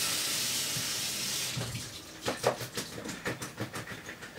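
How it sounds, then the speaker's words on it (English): In a kitchen sink, water is poured out and rinsed: first a steady hiss of running water, then uneven splashes and gurgles as the flow breaks up. "So I'm going to drain it in the sink right now."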